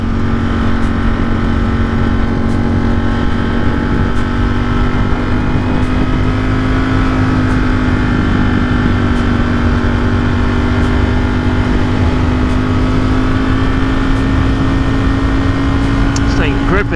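Motorcycle fitted with aftermarket rear sets cruising on a road on a spring day, a steady engine drone with smooth pitch and constant wind roar, close and loud throughout.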